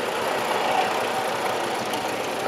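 A vintage Case 1832K tractor with a transverse engine runs at a steady, even drone at a country rally parade, loud and continuous with no talk over it.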